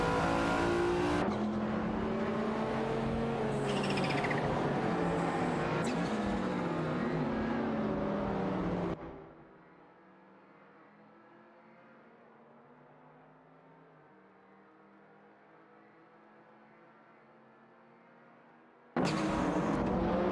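A Porsche 959 and a De Tomaso Pantera race in a video game, engines roaring loud and close with shifting revs, then dropping to a distant steady drone before a loud engine surges back in.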